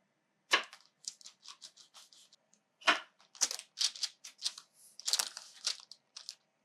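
A cake cutter trims the edges of a frosted cake, making close, quiet crisp crunches and scraping strokes in a quick, uneven series with brief gaps.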